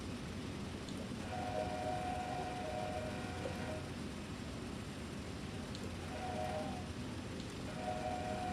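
Loaded freight train of 160 cars rolling down a main line at about 55 mph in Train Sim World 4, a steady low rumble with a brief two-tone horn sounding twice, faint and distant.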